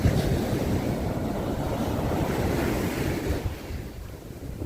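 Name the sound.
ocean waves crashing on shore during nor'easter storm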